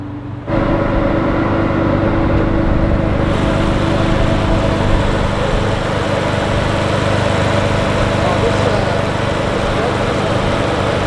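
A steady, loud V12 car engine drones on at idle without a break, a constant low hum with a faint rattle filling the whole stretch.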